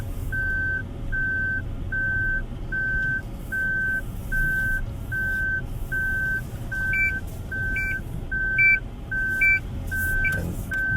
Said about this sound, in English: It also has parking sensors so that you know if you're gonna hit an obstacle or whatnot.